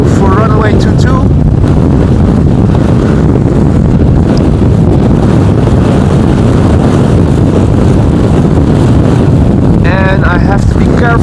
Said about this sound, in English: Wind directly in my back. Really picking up a little.